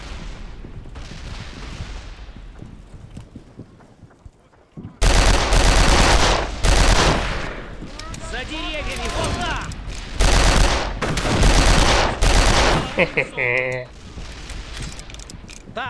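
Artillery fire and gunfire in the video game Darkest of Days: after a quiet stretch, loud repeated gunshot volleys and heavy booming blasts erupt in a dense, sustained battle, with a voice speaking faintly beneath.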